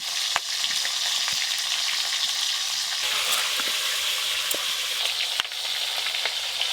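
Hilsa fish heads frying in hot oil, a loud continuous sizzle with sharp pops and light stirring clicks, close up and unbroken.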